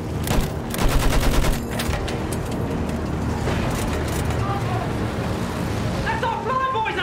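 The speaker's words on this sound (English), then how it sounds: "Shoot that machine gun!" Rapid machine gun fire rattles through a World War I battle in Battlefield 1, dense and loud with sustained bursts, mixed with engine rumble and shouting voices over the chaos.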